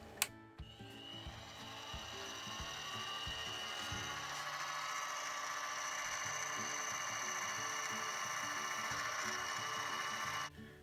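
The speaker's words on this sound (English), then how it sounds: "This is a size 28 drill bit, and that'll bring me close to the size hole that I want to drill for a clearance hole" Size 28 drill bit boring a clearance hole on a Harbor Freight mini mill, a steady close whirring drone with faint tonal whine that runs for about ten seconds after a brief start-up clunk, then stops abruptly; no voices.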